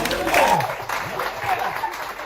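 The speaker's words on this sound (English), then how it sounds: "Give yourselves a round of applause." An audience at a comedy show applauds, a short burst of clapping that rises quickly and then thins out, with a voice talking over it.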